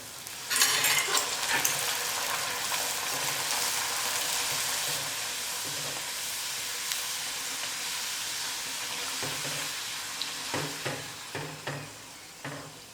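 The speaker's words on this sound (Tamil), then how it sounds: "கடாயில் எண்ணெய் ஊற்றி வச்சுட்டு எண்ணெய் நல்லா சூடேறிடுச்சு. இப்போ பூரி செஞ்சு எடுத்துக்கலாம்." Poori frying in hot oil in a kadai, a loud, dense, continuous sizzle up close, with scattered scraping and clinking in the later seconds.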